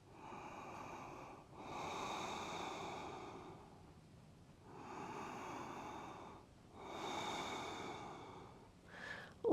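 Slow, deep breaths drawn in and released during a gentle restorative yoga session, each long airy inhale and exhale lasting a couple of seconds with pauses between, soft and close, no voice.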